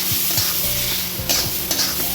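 Boiled whole mung dal is stirred into a hot, sizzling tadka, making a dense, continuous frying hiss broken by wet scraping strokes of a spoon, loud and close with no one talking.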